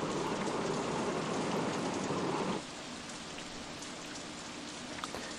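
Steady rain in the video game OpenRCT2 pours down with a dense hiss, then abruptly drops to a lighter, quieter patter partway through.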